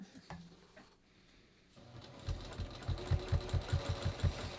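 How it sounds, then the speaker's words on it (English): A sewing machine stitching up a denim jeans skirt: after a few quiet clicks and a pause, the motor starts and runs in a rapid, even rhythmic thumping close by, with no voices. "I'm going to sew all the way up"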